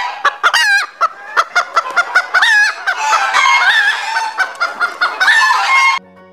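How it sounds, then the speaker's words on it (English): Farmyard hen clucking and crowing in a loud, busy run of repeated calls, with fowl voices stacked closely throughout before a sudden cutoff near the end. "H for hen."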